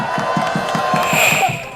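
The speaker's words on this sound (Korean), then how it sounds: "박수 부탁드리겠습니다" A close, loud crowd at an election-fraud protest rally claps in quick unison while cheers and shouts rise over the rhythmic beat.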